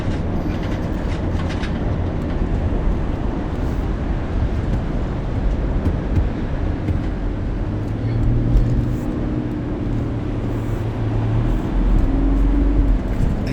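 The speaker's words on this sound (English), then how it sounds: "you could hear the car working there. Just hit a soft patch." A vehicle engine labors steadily through a soft sandy patch on a coastal four-wheel-drive track between Lake Mombeong and Old Man Lake, a continuous loud low rumble with rising strain and no break across the stretch.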